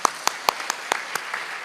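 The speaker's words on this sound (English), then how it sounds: "Give her a round of applause." A church congregation claps during a Sunday water service. A handful of separate, sharp hand claps ring out in the sanctuary, fairly quiet and spaced unevenly over a second or two.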